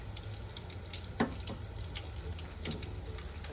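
Rice arancini deep-fry in hot oil until brown and crispy, giving a quiet, steady bubbling hiss broken by a few sharper crackles and pops.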